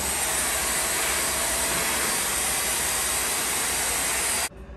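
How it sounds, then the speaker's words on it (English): A vacuum cleaner pulls dust from a Roborock robot vacuum during cleaning, a loud, steady close roar that runs unbroken for several seconds and then cuts off abruptly. "I'm just going to vacuum up this whole thing here nicely get rid of all the dust"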